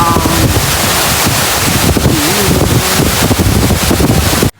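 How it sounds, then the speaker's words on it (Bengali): Parikunda waterfall in Barlekha, Moulvibazar, roars as a loud, constant wash of rushing water, with wind buffeting the microphone and no voices. "আসলে এটা নয়েজ না, এটা হইলো ঝর্ণার শব্দ"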